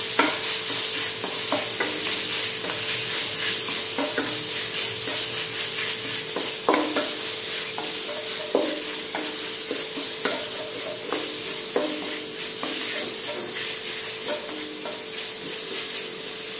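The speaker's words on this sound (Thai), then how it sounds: "ผัดพริกแกงเผ็ดให้หอมค่ะ หลังจากนั้นใส่หมูสับลงไป" Minced pork stir-fried with red curry paste in a hot pan: a continuous sizzle with a repeated scrape and clack of the spatula stirring, close and steady, with no voices.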